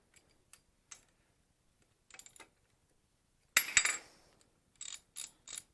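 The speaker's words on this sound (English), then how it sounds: "I'm going to take the bolts loose" A ratchet loosens 7/16 bolts on an engine piston connecting-rod cap, heard as scattered close metallic clicks and clinks in short bursts, with a louder rattling clatter midway, amid near silence.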